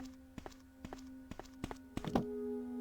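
A heavy block is pushed across the floor in Resident Evil, a series of evenly spaced dull thuds like slow footsteps over a steady low hum, ending in a louder scraping clatter.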